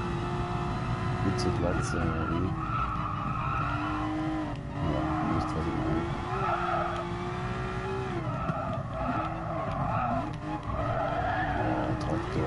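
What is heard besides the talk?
Porsche 911 GT3 RS engine in video game Gran Turismo Sport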